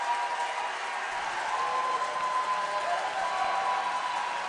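A crowd in an arena applauds after a goal at a powerhockey championship game, a steady wash of clapping and cheering heard from a distance, with no talk over it.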